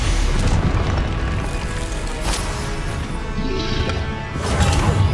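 The Confringo explosive spell in the video game Hogwarts Legacy sets off a heavy booming blast, with loud continuous rumbling and crashing that fills the whole stretch and swells again at the end.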